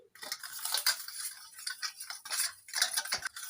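A spoon clinks and scrapes against a metal pan as sugar is stirred into a cauliflower Manchurian mixture, quick irregular metallic taps and scrapes close up with no talk.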